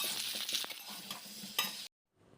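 Potato and pumpkin pieces fry in mustard oil in a wok, with soft sizzling and stirring scrapes close by before the sound cuts to near silence.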